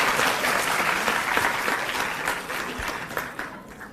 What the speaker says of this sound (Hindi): एक बार जोरदार तालियों से आइए स्वागत करें सर